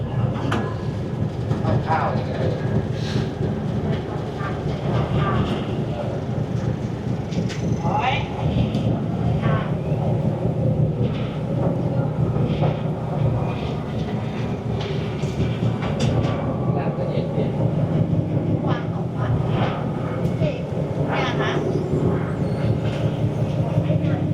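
A ferry's engine drones loud and steady as the boat pulls away from a river pier at Nonthaburi, a continuous low rumble with some rattling throughout and no clear talking.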